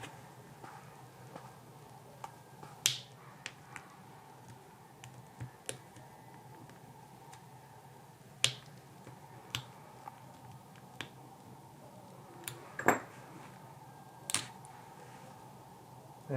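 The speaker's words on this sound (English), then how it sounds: "Now we will use a small flat screwdriver to pry these two latches." A small flat screwdriver pries the plastic latches on a Volvo XC front wiper blade, making sparse sharp clicks and snaps at close range over a quiet background.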